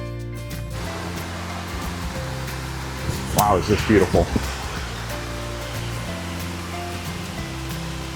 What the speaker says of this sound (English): On the back side of the sculpture park are some amazing waterfalls.